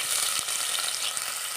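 Ginger sizzles in coconut oil in a pan, a steady, dense crackling hiss that holds close and even for the whole moment before cutting off abruptly.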